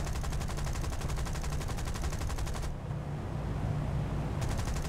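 Aircraft machine guns fire in War Thunder, a fast steady stream of rounds rattling loudly over a constant engine drone, pausing briefly and then resuming.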